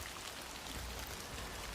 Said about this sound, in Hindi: इतनी तेज़ बारिश हो रही थी